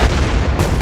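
A fuel drum ignited by welding sparks explodes in a single sudden, loud, close blast that rumbles heavily through the whole short moment.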